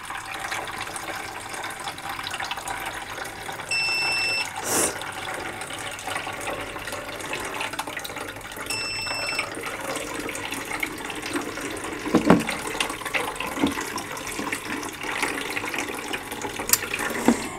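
Filtered water poured from a container into a self-watering plant pot makes a steady, close trickle. Two brief electronic beeps from the pot's water-level indicator sound near the start, with a few louder splashes later.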